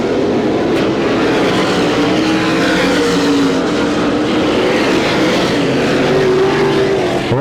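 IRA sprint race cars thunder past the flag stand at Butler Motor Speedway, a loud continuous engine roar with shifting pitch as the leader and pack go by, no talk audible.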